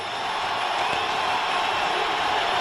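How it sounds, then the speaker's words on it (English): Sustained crowd applause and cheering at the 1996 NLCS Game 7 baseball game between the St. Louis Cardinals and Atlanta Braves, a dense steady roar of clapping from a large stadium audience with no talk over it. "They're even applauding in the Atlanta dugout."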